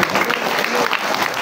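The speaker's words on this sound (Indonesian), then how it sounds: "Masya Allah, tepuk tangan dulu" An audience at an Islamic boarding school anniversary event claps in a dense, steady burst of applause, close and fairly loud, with faint voices mixed in.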